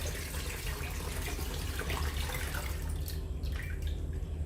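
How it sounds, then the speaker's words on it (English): Liquid finger millet milk strained through a sieve while making ragi milk powder at home, a steady close pouring and trickling splash running throughout with brief drips near the end. "Let me just filter this again here."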